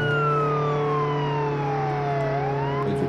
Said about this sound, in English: Let's put on the siren.